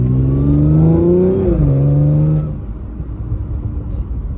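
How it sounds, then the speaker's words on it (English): A tuned stage 2+ Audi S5 (B8.5) with an exhaust leak from cracked downpipes revs up loudly, pitch climbing then dropping at a shift before fading to a lower, rumbling idle-like drone. "And right now I have a exhaust leak. I cracked my downpipes."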